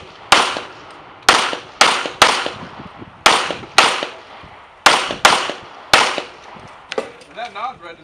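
Pistol shots crack out at an IDPA shooting match, about a dozen loud, sharp reports in quick uneven pairs and strings, ending with a brief voice.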